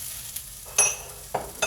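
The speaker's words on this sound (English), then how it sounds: "Just kind of stir this stuff. Get these pepitas going." Pepitas stirred while toasting in a pan: a quiet background of light sizzling with a few distinct scraping clinks of the utensil against the pan, sparse and close.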